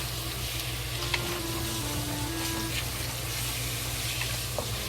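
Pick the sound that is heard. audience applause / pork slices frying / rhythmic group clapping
pork slices frying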